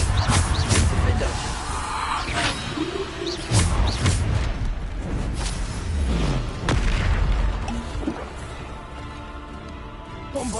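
Bombarda blasting spells explode again and again in Hogwarts Legacy, a string of heavy booms and crashes in quick succession over continuous game noise, loud and close throughout.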